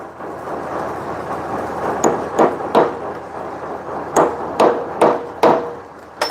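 A hammer drives a center punch into metal to mark a drilling spot behind a security bolt. About seven sharp, close metallic taps come in irregular groups over a quiet background.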